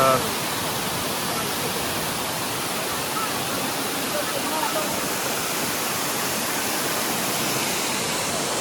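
A waterfall in Devgad taluka pours with a dense, steady hiss of falling water, continuous and even throughout, heard from close by.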